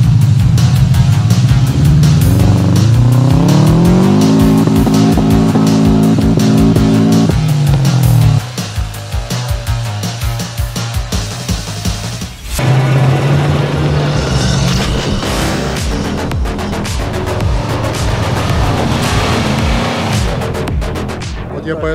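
A Gelik SUV engine roars and revs hard climbing a steep hill in a video game, the loud drone rising in pitch, dropping briefly, then surging again.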